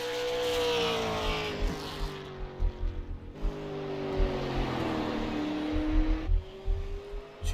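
A race car opens its qualifying lap at New Smyrna Speedway, its engine droning steadily and loud at a distance with rising and falling pitch as it works through the turns, no talk over it.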